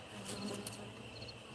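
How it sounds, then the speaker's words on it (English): Honey bees buzz densely around hive boxes on a farm as they are shaken down, a steady close swarm drone with no talking. "There's more bees than I was expecting."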